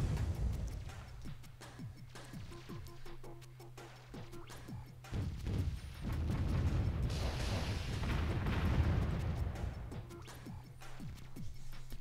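Warzone 2100 real-time strategy battle with units destroying an enemy lancer cyborg, heard as a dense run of crashing, thudding impacts and artillery-like blasts over a low hum, swelling into a louder sustained barrage midway.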